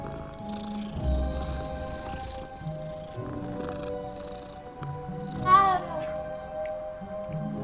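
A cat in a video game meows several times amid low game sounds and music, with one sharper, louder cry standing out near the middle.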